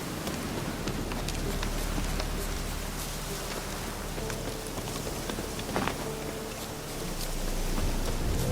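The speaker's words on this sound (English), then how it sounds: "Looks like rain." Steady rain falls in the Witcher 3 game world, a dense patter of drops hissing on surfaces, with scattered louder taps and a soft low rumble underneath, and no talk.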